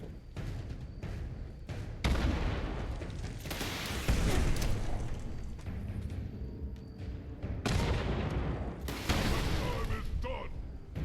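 Booming blasts and mechanical clatter of a fight with a rocket-armed super mutant in the video game Fallout 76. There are several heavy surges of explosive noise and a voice talks over the action.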